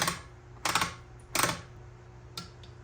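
Ratchet wrench clicking during final assembly of a 1951 Harley-Davidson Panhead motorcycle, in three or four short crisp bursts with quiet gaps between them, close and fairly loud.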